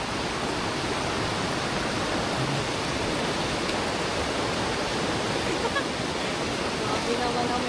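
Water rushing loudly and steadily as a group crosses a river, a dense, continuous roar close by that never lets up.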